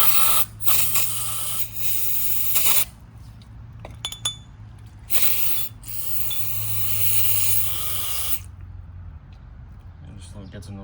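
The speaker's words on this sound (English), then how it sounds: "Let it soak in a brake cleaner, and then you can spray it inside the valve" Brake cleaner sprayed from a can into the PCV valve of a 2013 Honda Civic: several close, loud hissing bursts separated by pauses, with light metallic clinks and a low hum underneath.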